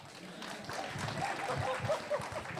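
Scattered audience clapping at an entrepreneurship panel conclave, a soft, uneven patter building slightly over a few seconds beneath a murmuring room, with faint voices.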